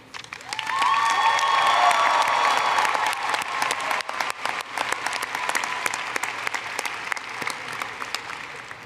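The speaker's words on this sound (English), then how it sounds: "would you please give a round of applause to the faculty who have guided you" A large commencement crowd in a hall gives sustained applause for faculty and families, full and steady clapping with a brief sustained tone near the start, then a gradual thinning toward the end.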